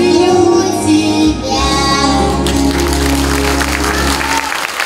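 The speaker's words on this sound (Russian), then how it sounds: "А этот дуэт мамы и дочки с очень трогательной композицией срывает не менее бурные аплодисменты." Vigorous audience applause after a mother-and-daughter duet at a house of culture celebration, loud and sustained, with music sounding beneath the clapping.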